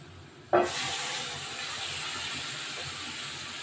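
Spice paste of ground masala, tomato, garlic, ginger and onion hits a hot pan with a sudden loud hiss, then settles into a steady, even sizzle for several seconds with no voices.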